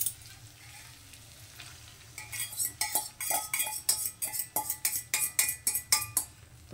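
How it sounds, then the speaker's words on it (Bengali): A spoon stirs and scrapes an egg bhurji mixture with a splash of milk in a pan, giving a run of regular, fairly loud clinks and scrapes over a steady low sizzle. "তো এটাকে একটু খুব ভালো করে মিশিয়ে নেব। দেখুন দুধ দিয়ে দিয়েছি এর সঙ্গে একটু।"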